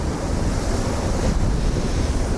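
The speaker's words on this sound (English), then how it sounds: "It's nice to hear the ocean." Ocean surf rolling onto the foggy Maine coast, a dense steady wash of waves with wind buffeting the microphone, loud and unbroken throughout.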